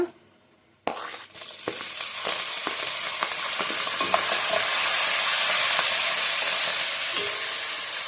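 Dried red chillies and curry leaves hitting hot oil for vangi bath: after a quiet start, a sharp crackle erupts, then a sizzling hiss builds steadily louder and stays close, dotted with small pops.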